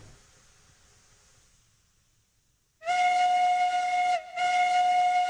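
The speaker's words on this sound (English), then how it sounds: "Super confident whistle." A steam locomotive whistle in Railroads Online sounds loud and steady, one long blast broken by a brief gap before a second blast, after a quiet lead-in.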